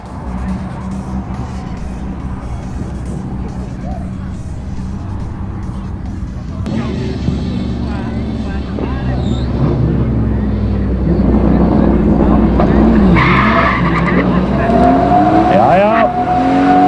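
A six-cylinder car launching at a street drag race at an Icelandic car festival: a loud idling engine, then a sharp launch with revs climbing hard, tire squeal and a roaring pass, with voices talking over it.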